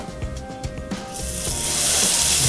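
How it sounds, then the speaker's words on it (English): Quiet clinking and bumping give way to a rising, loud sizzle as beer-battered halibut hits hot oil and fries steadily. "you're gonna drop it directly into your hot oil."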